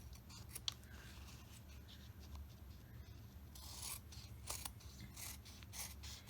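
Scissors snip along the edges of a canvas piece for a junk journal, a string of close, crisp cuts in irregular rhythm over a low steady hum, with no talking.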